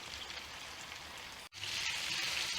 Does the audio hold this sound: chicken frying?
yes